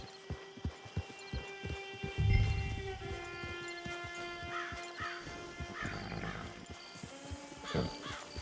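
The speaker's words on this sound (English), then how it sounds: "Get your horse." Horse in the video game Red Dead Redemption 2, with soft clip-clop hoof steps and snorts over a steady musical hum and ambient game score, no talking.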